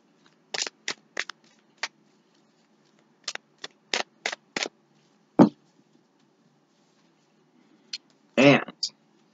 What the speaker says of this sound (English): I'm going to give this 3 shuffles.